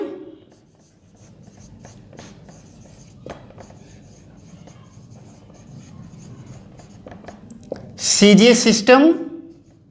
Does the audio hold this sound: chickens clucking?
no